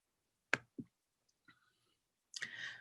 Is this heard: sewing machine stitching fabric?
no